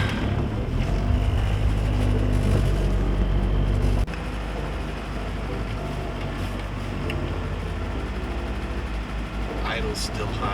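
A station wagon engine idles high while warming up, a steady close rumbling drone that runs throughout with a slight drop in level partway, and no voices.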